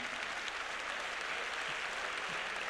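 Continuous applause from a church gathering, a dense, even hiss of many clapping hands, moderately loud and sustained without pause or speech.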